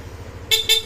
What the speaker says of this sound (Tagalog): Busina nga ulit.